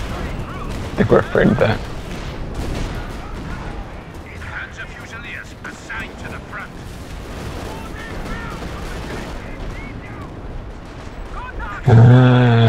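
Artillery strike in Company of Heroes 2, with distant booming impacts and rumbling explosions amid battlefield noise, heard under players talking and ending with a louder blast.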